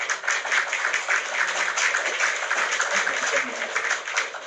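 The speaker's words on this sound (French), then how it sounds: "HK, Moula, je t'applaudis, ça c'est pour toi." Steady applause from a crowd, dense continuous clapping at a moderate level throughout, with faint voices mixed underneath.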